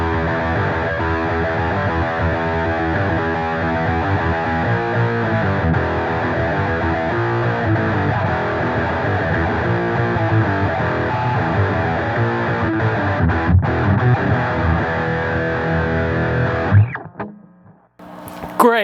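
Heavily distorted electric guitar, an Ibanez S Classic SC420 on its humbucker through a Metal Zone pedal, plays a dense, sustained riff for most of the stretch, then cuts off abruptly into near silence.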